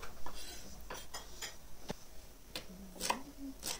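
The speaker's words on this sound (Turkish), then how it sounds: "Bütün semizotlarımı bu şekilde doğruyorum" Knife chopping purslane into rough, chunky pieces on a board, about eight sharp, separate cuts in an uneven rhythm, close and fairly quiet, with light clatter between them.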